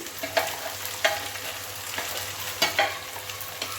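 Crushed garlic sizzles in hot oil in a pan for dried-fish thokku, with a steady close frying hiss broken by irregular scraping stirs of a spoon against the pan; no one speaks.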